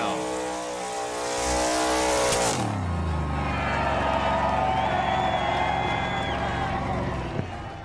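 A NASCAR Cup race car roars at high revs during a burnout, the engine pitch falling sharply partway through into a rumbling idle, with crowd noise and faint talk underneath.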